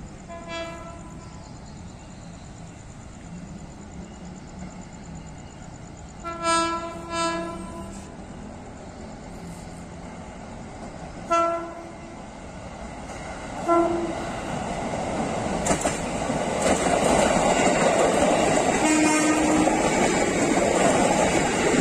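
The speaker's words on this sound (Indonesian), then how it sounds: "sekarang kita tunggu dan fokus sama rangkaian KRL yang akan melintas" A 12-car electric KRL commuter train approaches and passes a level crossing, with two-tone horn blasts early on, then a loud rising roar of wheels and motors swelling as it goes by.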